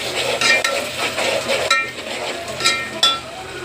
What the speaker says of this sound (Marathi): दही टाकून झाल्यानंतर पूर्ण परतून घ्यायचं.